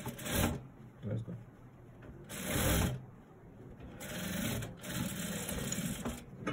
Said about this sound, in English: So you just fold now and let's continue our sewing.